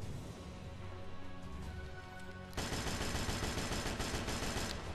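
Gunfire in the video game Headhunter, with rapid shots over a busy game soundtrack that jumps to a louder, denser burst of fire partway through, no voices.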